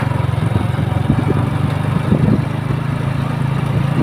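Motorcycle tricycle engine runs loudly and close during a training ride, a steady throbbing low putter with rattling clatter and slight revving swells.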